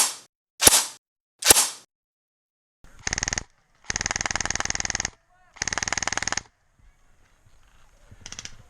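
Arcturus Karambit Mod1 airsoft AEG fires several loud bursts of BBs, a rapid buzzing mechanical chatter in three strings, after a few sharp single clicks, with faint sounds between bursts.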